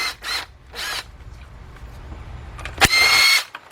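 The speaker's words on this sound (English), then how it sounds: "So I got my 10mm shallow 3/8 drive, my cordless impact," A cordless impact wrench with a 10mm shallow 3/8 drive socket loosens oil pan bolts on a 2005 Cadillac CTS 3.6. It gives short, loud buzzing bursts separated by pauses, ending in one longer whirr.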